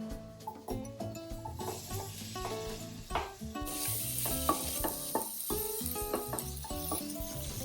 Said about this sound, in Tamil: இதுல வந்து கட் பண்ணி வச்சிருக்க மஷ்ரூம்ஸ் ஆட் பண்ண போறேன்